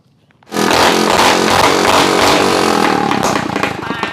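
A Thai racing speedboat's engine at Bang Kacha, Chanthaburi roars in abruptly and holds a loud, raspy, crackling rev close by, with no talk.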